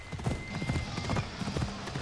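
Horse hooves clop in a quick galloping rhythm in Assassin's Creed Odyssey, a steady close run of hoofbeats that lasts throughout, with faint background sound beneath.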